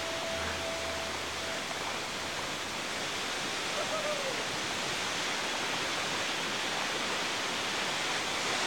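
A waterfall in a Madagascar rainforest gives a steady, close rushing roar of falling water that runs unbroken throughout.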